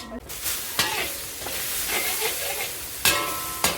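Pork and garlic stir-frying in hot oil in a wok, a steady sizzle with scraping stirs and a few sharp clanks of the spatula against the pan.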